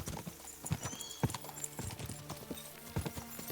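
A horse named Pebbles being ridden in the game Kingdom Come: Deliverance 2, with steady, fairly faint clip-clop hoofbeats in a rhythmic gait and a few sharper thuds, set against soft outdoor ambience.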